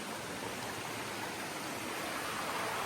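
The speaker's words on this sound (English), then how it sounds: "it's a tributary of Bourne Brook." A small tributary of Bourne Brook flows beneath a brand-new footbridge, making a steady, close rushing and splashing of water with no breaks.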